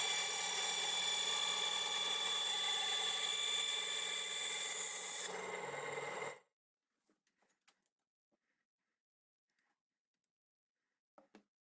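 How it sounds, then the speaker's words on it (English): A belt sander with a 180 grit belt grinds steadily against knife handle scales for about six seconds, loud and close, then cuts out to near silence with a few faint clicks. "I'll sand these handle scales with a 180 grit belt to try to square up those cut edges"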